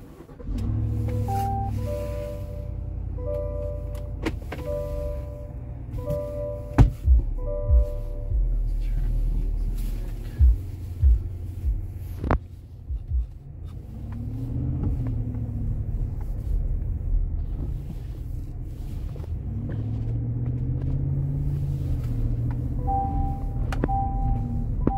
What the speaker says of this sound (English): I'm going to start this for you, and then we're going to just drive it around here really quick, okay?